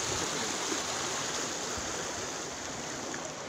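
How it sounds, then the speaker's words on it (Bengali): Strong current rushing through a canal near a sluice gate in farmland, a dense, continuous roar of water heard close and loud without pause. "যে স্রোত কিন্তু প্রচুর স্রোত।"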